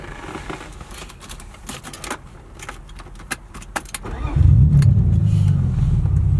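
A manual BMW E36 car pulls off in first gear. Light clicks and rattles inside the cabin are followed by the engine swelling into a louder, steady low drone as the car moves away.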